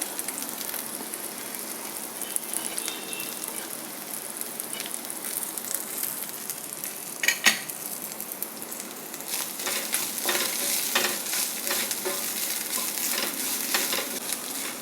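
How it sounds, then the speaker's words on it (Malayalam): Grated coconut roasting in a pan for a raw plantain erissery, giving a steady dry sizzle with scraping stir strokes, a sharp clack near the middle, and denser crackle toward the end, with no talking. "ഈ തേങ്ങ വറക്കാനായിട്ട്"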